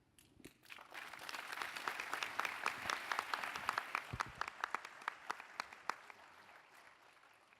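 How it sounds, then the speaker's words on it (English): An audience at MIT's $100K Launch startup competition finals applauds, the clapping swelling quickly to a full steady burst, then thinning out to a few scattered claps before fading. "Give them a round of applause."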